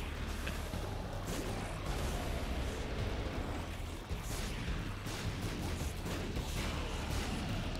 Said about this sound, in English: Just a lot of explosions going on right now.